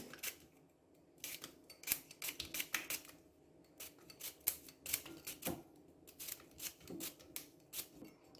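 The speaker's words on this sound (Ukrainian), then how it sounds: "Нарізаємо огірки." A knife slices cucumbers for pickles on a board, giving quiet, irregular crisp cuts and taps close up.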